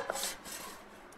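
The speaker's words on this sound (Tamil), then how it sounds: "சேர்த்துட்டு இந்த லம்ஸ் இல்லாமல் நல்லா கிளறி விட்டுக்கலாம்." Roasted gram (pottukadalai) powder and sugar being stirred in a pan for halwa, giving a soft continuous scraping and rubbing of a spoon against the pan, faint and close, with no talk.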